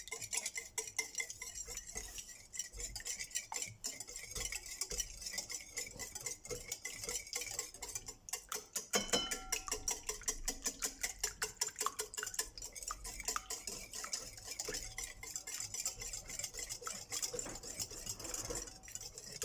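Four eggs are beaten in a salad bowl, giving quick, faint, rhythmic clicking and tapping that runs steadily throughout.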